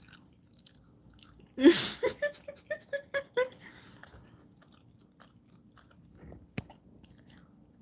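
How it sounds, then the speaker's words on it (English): Someone chews food on a livestream, a few quick close crunchy bites in a short burst, then quiet room tone. "It's the way you got me over here chewing like a llama."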